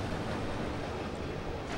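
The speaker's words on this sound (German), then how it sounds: "Der macht glücklicherweise nur da oben das Wasser an." Water rushes steadily in the Limbo video game after a lever is pulled, a dense, continuous wash of flowing noise at moderate loudness with no pauses.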